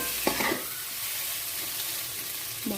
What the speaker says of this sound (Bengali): মশলাটা একটু ভালো ভাজা হতে হবে